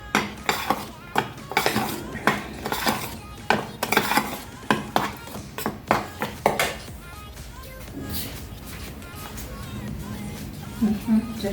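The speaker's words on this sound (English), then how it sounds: "I'm just mixing the dry ingredients all together" Rapid rhythmic clinking of a utensil against a bowl while dry ingredients for cinnamon rolls are whisked together, close and busy at first, then easing into softer mixing.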